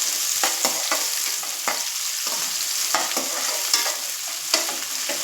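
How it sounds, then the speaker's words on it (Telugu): Onions fry in hot oil in a pan, a steady close sizzle broken by intermittent stirring scrapes and clicks, with no voices over it. "ఈ ఆనియన్స్ వేగుతూ ఉన్నాయి చూడండి"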